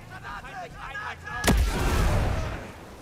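A grenade explodes in the video game Ghost Recon Breakpoint: after a few seconds of faint voices shouting, a sharp, close blast hits and rolls into a low rumbling boom that fades out.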